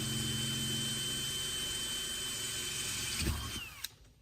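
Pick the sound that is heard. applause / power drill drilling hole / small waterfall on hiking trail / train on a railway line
power drill drilling hole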